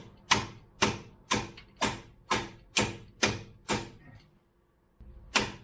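A ratchet wrench working on the pinch bolt of a 2006 Ford Escape Hybrid with a bad lower ball joint, about eight sharp rhythmic clicking strokes, close and loud, then a pause and one more stroke.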